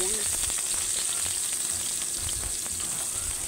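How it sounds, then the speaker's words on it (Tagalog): Garlic fries in hot oil in a steady, loud, continuous sizzle for chicken curry, with faint stirring clicks underneath. "Magpainit na tayo ng mantika. Maggisa na tayo ng mga ricado."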